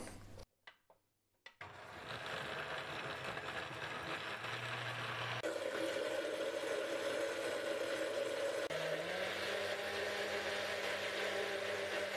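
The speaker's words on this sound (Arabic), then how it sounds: "وابدأ اشغل بقى الخلاط بتاعي" A blender motor starts up and whirs steadily at close range, blending oats, honey and milk, its pitch shifting a couple of times as it keeps running with no talking.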